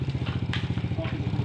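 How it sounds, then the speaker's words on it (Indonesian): Honda Supra motorcycle engine idling at a workshop, a steady close low putter with a quick, even firing rhythm, while people talk over it. "Lah motor Kang Edi ini kan. Wis beres Kang. Supra Bapak rupanya"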